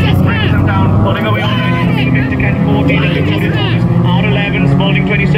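Racing cars at a ladies and juniors national meeting pull away around the track, a continuous engine drone heard under a commentator's steady talk.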